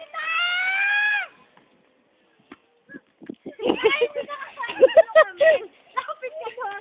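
Goats bleat in a loud drawn-out cry at the start, then after a pause several shorter bleats and calls follow close by in quick succession, overlapping one another.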